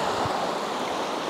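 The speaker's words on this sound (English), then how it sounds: "So that's the stream that's coming out of the waterfall." Steady broadband rush of a stream flowing nearby from a Welsh waterfall, continuous and even throughout, with no voices.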